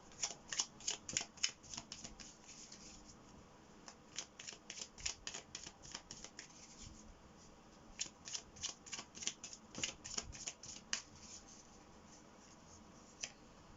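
Oracle cards being shuffled by hand for a tarot reading, a close, quiet run of crisp riffling and slapping card sounds in uneven bursts, with no voices.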